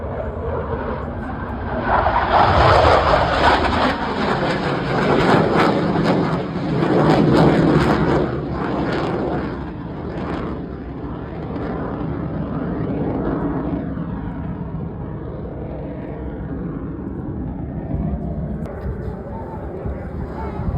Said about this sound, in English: with his Super Hornet. Straight up. Right now.